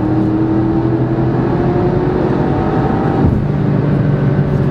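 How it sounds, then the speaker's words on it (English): A Porsche Cayenne Turbo accelerates hard from inside the cabin, a loud steady engine roar with a rising tone that dips briefly at a gear shift before pulling on, with no talking. "we always like to showcase the acceleration of these particular cars"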